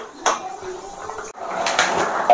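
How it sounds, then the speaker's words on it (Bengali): A metal lid is lifted off a pot of simmering potato and pumpkin curry, giving a brief clank and a scraping rattle against the rim among quiet kitchen noise. "এবার আমি ঢাকনাটা তুলে দেখবো কতটা সিদ্ধ হলো।"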